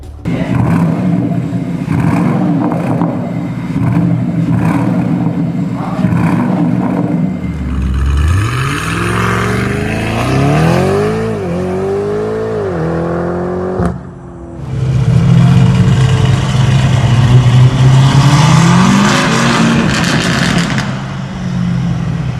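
Lamborghini Urus SE performance SUV engine revving, rising and falling in repeated climbing sweeps, then a louder sustained surge of acceleration close by.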